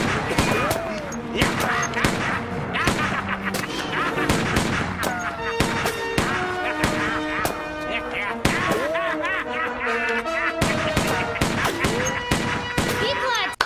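Rapid gunfire from a film scene featuring the Gingerdead Man, a gun fired without pause, dense cracks and bursts stacked over a busy soundtrack with music and effects throughout.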